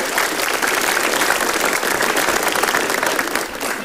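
A comedy show audience at Komika Vaganza breaks into dense, steady applause that stays loud and even for the full few seconds, with no talk over it.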